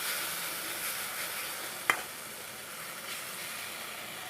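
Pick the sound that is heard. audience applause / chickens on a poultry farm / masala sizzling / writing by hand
masala sizzling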